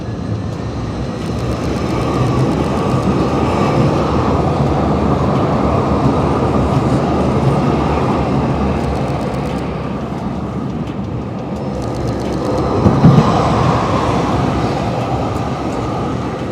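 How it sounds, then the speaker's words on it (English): A train arriving at a downtown Calgary station on a foggy day, a loud continuous rumble and rolling roar of rail cars that builds and holds, with a brief clank near the end. "here comes the train"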